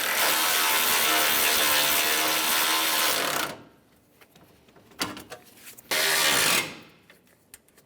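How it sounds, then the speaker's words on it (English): A ratchet wrench tightening 10 mm bolts on a 2003-2011 Honda Element hood latch, starting with a loud, sustained burst of rapid ratcheting, then quiet clicks and a second short burst, close up with no talk. "So we'll go ahead and tighten down our 10 mil bolts."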